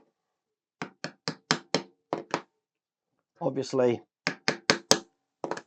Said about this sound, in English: I could just use my hammer here